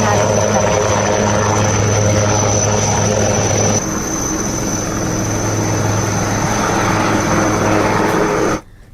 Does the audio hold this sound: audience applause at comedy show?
no